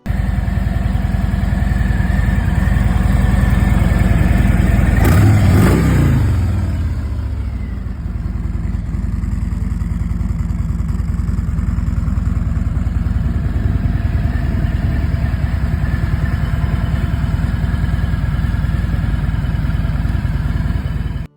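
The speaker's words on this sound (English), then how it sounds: "it's powered by the strong 114 CI Milwaukee 8 engine" A 2019 Harley-Davidson Freewheeler three-wheeler with a 114 cubic inch Milwaukee-Eight engine idles with a deep, steady low rumble. A brief louder revving burst comes near the start, then the idle continues alone at close range.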